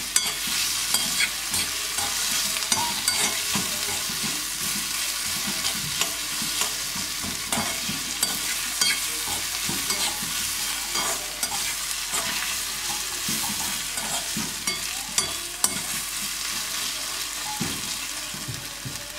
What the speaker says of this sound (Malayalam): അപ്പം ഉള്ളി ആയിക്കൊണ്ടിരിക്കുകയാണ്.